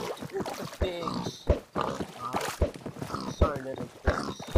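Minecraft pigs grunt and oink repeatedly in short bursts inside the video game, mixed under nearly continuous talking at moderate loudness.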